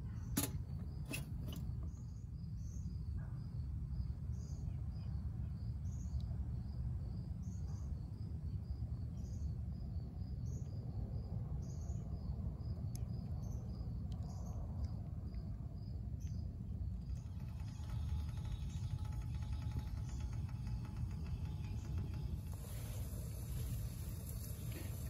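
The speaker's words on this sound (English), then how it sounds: "As you can hear, it is definitely boiling." A steady low rumbling bubble of two cups of water boiling in a pot on a Firebox wood stove, faint and continuous, with a soft high ticking or chirping in the background.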